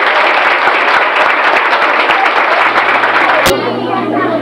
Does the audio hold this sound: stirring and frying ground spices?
no